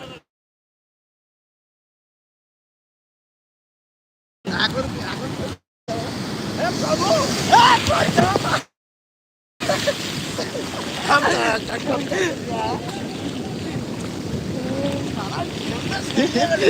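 Sea waves at Puri beach roll in as a steady broadband roar, broken by short gaps of silence, with wind buffeting the microphone throughout.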